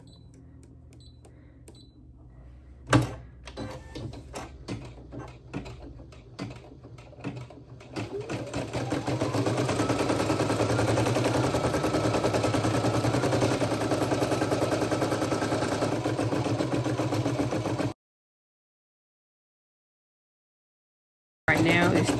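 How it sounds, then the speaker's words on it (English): An embroidery machine stitches down a foundation layer for a green circle on a sweatshirt, a steady rapid mechanical chatter that builds to a loud continuous run after a few sharp clicks, then cuts off abruptly. "Right now it's stitching down the foundation for the green circle."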